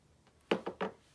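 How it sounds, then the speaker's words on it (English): Fabric scissors snip through the corners of a quilted fabric pot holder, three quick close cuts in a row, each a short crisp crunch that fades. "Grab your fabric scissors and trim off the corners following the line that you just"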